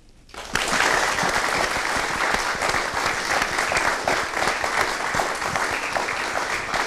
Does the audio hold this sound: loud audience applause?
yes